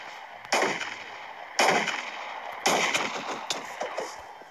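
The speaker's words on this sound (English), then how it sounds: "How about I shoot this gun, guys?" Gunfire from a gun in GTA San Andreas gameplay, three sharp loud shots spaced about a second apart, each trailing off with echo, plus a couple of softer pops near the end.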